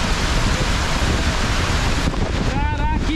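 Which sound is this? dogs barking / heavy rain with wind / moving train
heavy rain with wind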